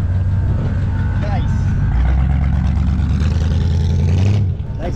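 An Austin Ten Special car engine revs loudly and close by, its low rumble rising and holding steady for several seconds before easing off near the end, with voices faintly underneath.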